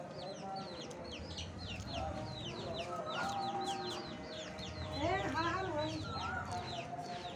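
Chickens clucking and chirping busily nearby in a rural farmyard with ducks, many overlapping calls building to a louder burst midway, with faint talk in the background.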